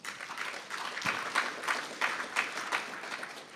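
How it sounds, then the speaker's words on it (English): An audience gives a round of applause at a Sunday church service, a steady wash of many hands clapping at moderate distance with a few louder bursts, no voices standing out. "Let's give her a round of applause."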